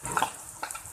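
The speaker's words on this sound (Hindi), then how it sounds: "अच्छी तरह से इसको फ्राई कर लेंगे हम" A finely chopped medium onion sizzles in hot oil in a pan, with a soft, steady frying hiss and a few light spatters over one brief second.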